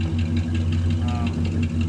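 Cadillac Eldorado exhaust giving a deep, steady low rumble at idle, close and continuous with a faint clatter on top.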